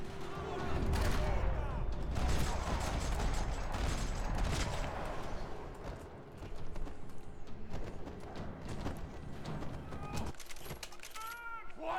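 Dense bursts of gunfire from the third-person shooter Max Payne 3, loud and layered with rapid shots and impacts over game noise and music throughout.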